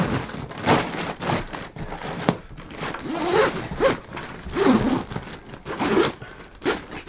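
A kitesurf travel bag is zipped closed in a series of quick, close zipper pulls with short pauses between strokes.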